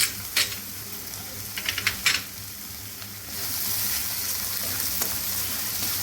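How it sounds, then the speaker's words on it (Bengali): Browned onions and ginger fry in a pan for a fish korma, with a few sharp clinks of a spoon stirring early on, then a louder, steady sizzle that carries on to the end; no voices. "পেঁয়াজটা ভাজা ভাজা হয়ে গেছে"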